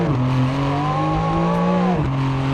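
A Porsche 911 GTS engine accelerating hard, its loud steady rising tone heard from inside the car, then a quick gear shift and renewed pull, no speech.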